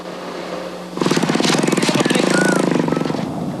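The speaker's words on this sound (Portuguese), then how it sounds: "O vai e vem de motos nesta rota comercial clandestina enche as estradas rurais." Motorbike engines on a rural road, one roaring in close and loud with a rapid, pulsing rattle, holding steady for a few seconds before easing slightly.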